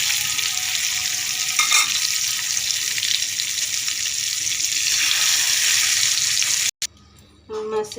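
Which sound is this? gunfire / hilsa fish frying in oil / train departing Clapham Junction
hilsa fish frying in oil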